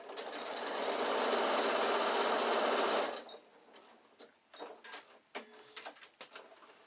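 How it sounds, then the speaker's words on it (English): A sewing machine stitches across an insulated picnic bag in one loud, steady run of about three seconds, followed by quiet clicks and fabric handling. "Sew again."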